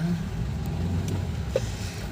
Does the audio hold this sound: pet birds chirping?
no